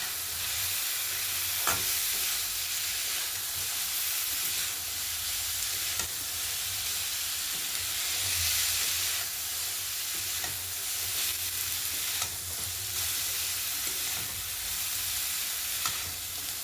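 Papaya pulao with fried peanuts is stirred in a pan: a steady, even sizzling hiss runs throughout, broken by soft periodic scrapes of the spoon every second or two.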